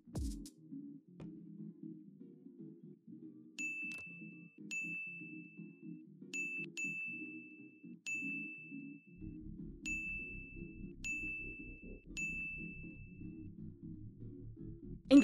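A mobile phone rings with a repeated series of clear electronic dings at an uneven rhythm, moderately loud over a low background hum.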